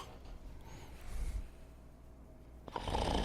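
A man snores in an animated show, with a rough nasal snort building then fading, followed by a louder rasping inhale; faint and close, without speech.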